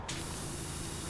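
A pressure washer sprays in the video game PowerWash Simulator, a loud, continuous hissing jet that starts abruptly and holds steady for about a second, with no talk.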